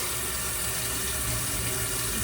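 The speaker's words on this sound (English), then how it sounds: "I'm gonna let the hot water go" Hot water running steadily from a tap, a continuous dense rushing hiss with no breaks, close and even throughout.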